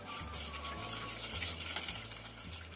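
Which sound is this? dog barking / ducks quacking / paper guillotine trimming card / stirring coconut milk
stirring coconut milk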